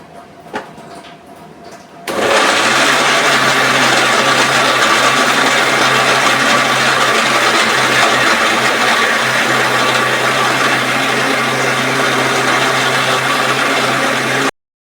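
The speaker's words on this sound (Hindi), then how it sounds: "और मिक्सी ज़्यादा नहीं चलाती हूँ, जब प्याज का पेस्ट बनाती हूँ" An electric mixer grinder whirs steadily and loudly while making onion paste in a home kitchen, starting abruptly after a couple of quiet seconds and running without a break.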